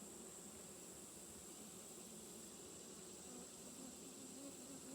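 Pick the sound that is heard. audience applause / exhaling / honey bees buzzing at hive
honey bees buzzing at hive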